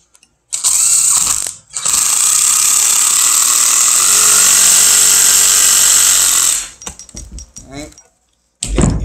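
Power drill countersinking and driving screws into wood, two loud whirring bursts of about one second and five seconds, then quieter clicks and handling noises.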